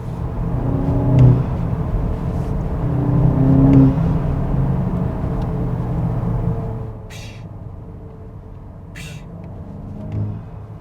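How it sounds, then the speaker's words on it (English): A turbocharged car running on a dyno gives a steady engine drone with intake sucking and turbo whir, swelling around the second and fourth seconds, then easing, with short hissy diverter valve bursts near seven and nine seconds. "you hear more DV noise, you hear more of the sucking and a little more turbo noise"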